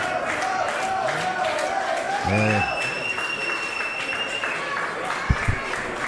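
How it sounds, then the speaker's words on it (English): Wrestling fans cheer and clap at an independent match as a veteran ECW wrestler fights out of a hold. The crowd noise runs steadily under voices, with a few sharp claps or thuds near the end. "Crowd getting behind the Pitbull."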